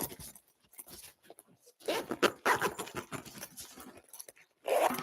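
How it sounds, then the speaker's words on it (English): A zipper on a lockable travel bag is drawn shut in several short, close rasping strokes, with brief pauses between the pulls. "I'll zipper this up"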